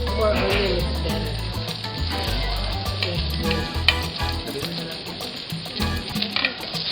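Onion frying in oil in a Salad Master pan, a steady dense sizzle with crackling pops running throughout, loud and close, with no talk over it.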